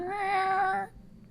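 Cat meow, or a human voice imitating one, in a quiet setting: one sustained, strongly tonal cry close by that ends abruptly, followed by near silence.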